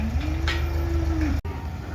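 A single drawn-out moo from a heifer calf on a cattle farm in Saudi Arabia, fairly close, with faint background noise and a brief knock near the end.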